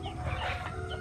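A Basilan rooster clucks close by in a short, steady burst of fowl calls, with no talk over it.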